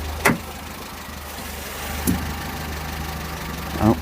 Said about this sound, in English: there you go, the fan's just kicked in